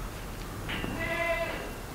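Spanish goats bleating, with a single drawn-out, wavering bleat rising over steady outdoor background noise, fairly close and moderately loud.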